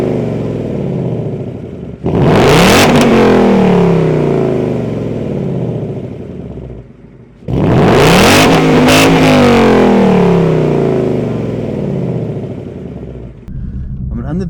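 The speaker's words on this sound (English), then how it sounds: "I'll get some shots of the exhausts here, do a couple revs" A Ford Mustang GT exhaust gives two loud, close revs, each a sharp roar that climbs, holds and then settles back toward idle, with a short pause between the two bursts.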